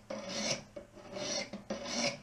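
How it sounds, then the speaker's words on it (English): A Boker Jim Wagner Reality Based Blade knife is drawn across a 200 grit sharpening stone in three steady, close rasping strokes, each about half a second long with brief pauses between, and no voices. "It's easy to sit here and just swipe motions out here on the middle of the blade or the end of the blade."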